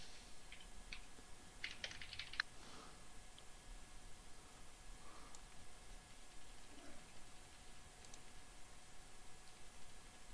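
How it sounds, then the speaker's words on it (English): Quiet typing on a computer keyboard in a room, with scattered soft key clicks and a brief quick burst early on, faint against a steady background hiss. "Are you typing things in the chat?"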